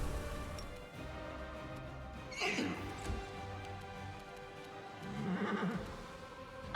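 Two horse whinnies from the video game Pathfinder: Wrath of the Righteous ring out a few seconds apart over a low steady background hum, with faint hoof clopping.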